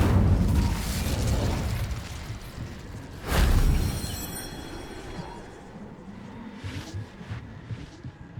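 An Incendio fire spell is cast in Hogwarts Legacy, a fiery whooshing burst with a sharp booming impact midway, then crackling flames and smaller pops trailing off.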